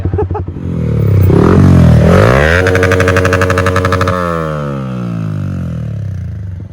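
A Yamaha R15 motorcycle engine revs hard nearby, pitch climbing and holding in a loud, rattling drone before easing into a lower, pulsing idle.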